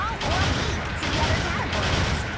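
Rapid rifle fire from a GM mobile suit in Gundam Battle Operation 2, a steady stream of overlapping shots that stays loud for the whole stretch.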